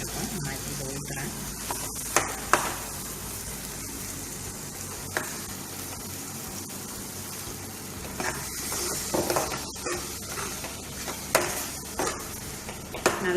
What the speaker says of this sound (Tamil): அரைச்சி வச்சுருக்க தேங்காய் இதில் ஊற்றுறேன்